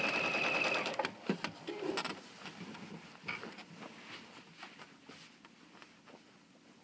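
A sewing machine stitches quilt binding down, starting with a steady loud run of needle chatter and then breaking into shorter, fainter bursts with small handling knocks between them.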